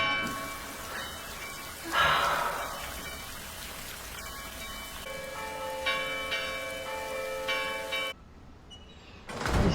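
Steady rain patters on surfaces throughout, with resonant bell-like tones ringing over it partway through before the texture cuts off sharply near the end.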